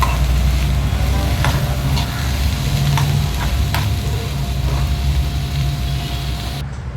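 Tomatoes sautéing with salt in a pan hiss in a continuous, close sizzle, broken by occasional sharp scrapes and clicks of stirring, over a low steady hum.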